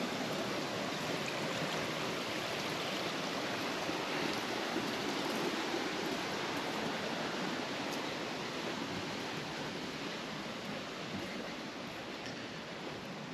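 Water rushing steadily through a newly installed aquarium overflow drain, a loud, continuous broadband roar with no pauses and no talking.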